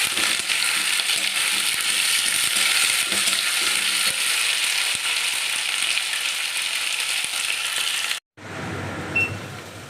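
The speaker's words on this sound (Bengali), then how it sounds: "ছোট ছোট করে কাটা লাল, হলুদ, সবুজ আর পেঁয়াজ, কালারিং ক্যাপসিকাম সবগুলো কেটে নিয়েছি, এগুলি কড়াইতে দিয়ে দেবো।" Chopped red, yellow and green capsicum and onion frying in a wok, a loud continuous hissing sizzle with light stirring clicks, cutting to a quieter hiss near the end.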